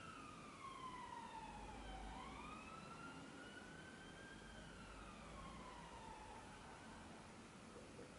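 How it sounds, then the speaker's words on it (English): Emergency vehicle sirens wail continuously, their pitch sweeping down and then rising again as they pass, with steady traffic rumble underneath; no talking. "So wait for these damn sirens."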